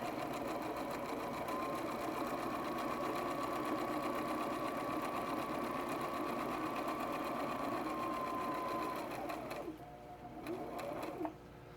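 A sewing machine stitches a drawstring pouch, its needle whirring at a steady fast rhythm close up for several seconds before stopping, followed by a few small mechanical clicks.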